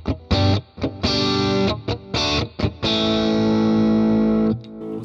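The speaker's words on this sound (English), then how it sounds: "Now I want to push this down to position 4 so we have the middle and the neck in parallel" Electric guitar with middle and neck pickups in parallel via a Mad Hatter Terminator 4/3, a few short chord stabs then a long sustained chord ringing out before cutting off.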